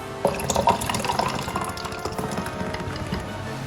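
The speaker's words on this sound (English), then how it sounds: "I'm just going to fill it up with some Coke" Coke poured into a Darth Vader mug cocktail, a brief splashing pour followed by fizzing and dripping liquid, close and moderately quiet.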